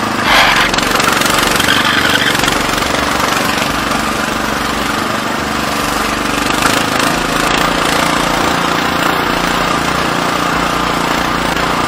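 Car engine roars and revs hard as the wheels spin and slip on a muddy rural road after rain, a loud continuous strained drone with no pause.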